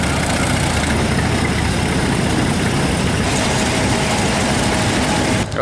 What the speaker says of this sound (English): these tractors are so loud.